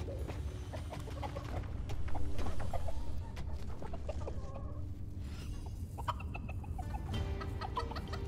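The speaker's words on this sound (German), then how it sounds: "Auch definitiv auch mehr Hühner." Chickens cluck steadily throughout the Dungeons 4 video game soundscape, with a busier burst of fowl calls near the middle over a constant low in-game background.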